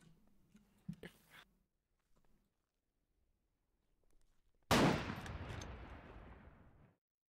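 Sniper gunfire in the war game Foxhole: a single sharp, loud crack followed by a long, broad rumbling tail that fades over about two seconds, after a few faint clicks and brief murmured talk earlier.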